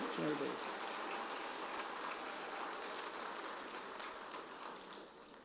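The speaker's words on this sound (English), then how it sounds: "Let's give them a round of applause, all city employees." Audience at a State of the City event applauding city employees, a faint, even wash of clapping held steady throughout.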